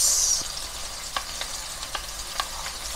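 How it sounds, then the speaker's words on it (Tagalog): Garlic and onion sautéing with pork belly in a pan, a soft steady sizzle up close with a few light scrapes and taps of a utensil stirring. "Gisa-gisa po natin hanggang sa mag-brown po yung ating bawang at sibuyas"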